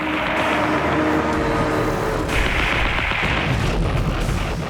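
Anti-aircraft guns firing at kamikaze planes during the World War II Pacific fighting off Leyte in the Philippines, a dense, loud rumble of continuous booming fire mixed with aircraft drone.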